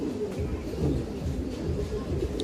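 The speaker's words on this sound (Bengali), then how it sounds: "এটা কিন্তু অরিজিনাল পাঙ্খি কবুতর" Soft pigeon cooing murmurs steadily through the whole stretch, low and close, with a faint background hum and no one talking.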